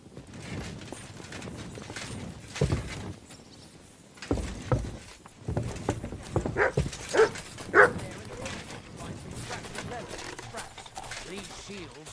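Dog barking in the medieval role-playing game Kingdom Come: Deliverance II, a few sharp barks mixed with horse hooves and game ambience while a voice talks over much of it.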